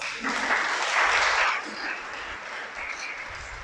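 An audience at a religious sermon breaks into a burst of applause that peaks loudly for about a second and a half, then fades to scattered, softer clapping.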